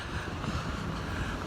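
Steady wind rushes and buffets against the microphone outdoors while someone walks on a hot day, a constant broadband roar with no talk over it.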